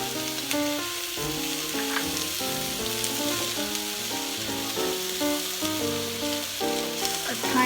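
Shrimp seasoned with white pepper and a few drops of cooking wine sizzle steadily in a hot pan as they are stir-fried, a continuous close crackle with clinks of stirring and no voices.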